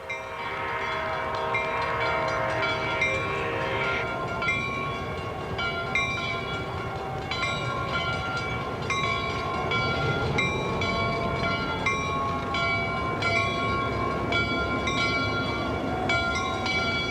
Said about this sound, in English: the 4978 makes her triumphal entry into her new Mendota home, accompanied by an air compressor-driven whistle from an engine of the same class.